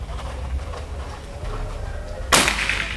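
A PCP air rifle, either a Predator OD 38 with folding stock or a Marauder OD 38, fires a single sharp crack at paper targets, heard late after a stretch of steady outdoor background noise.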